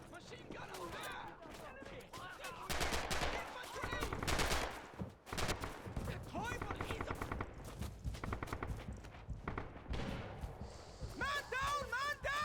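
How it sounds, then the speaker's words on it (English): Machine guns and rifles fire in Red Orchestra 2, a World War II battle at Stalingrad: dense bursts of automatic fire and scattered single shots over twelve seconds, loud and close, with soldiers shouting in between. "Machine gun up there!"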